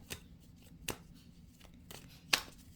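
A tarot deck is shuffled by hand with a few crisp card riffles and slaps spread across a few seconds, close and fairly quiet, with the sharpest snap near the end.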